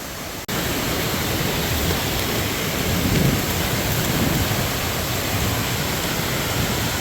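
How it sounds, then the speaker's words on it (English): A waterfall near a gold panning and prospecting site roars as a dense, steady wash of falling water, loud and unbroken after a brief quieter start. "that's a pretty nice looking waterfall, huh?"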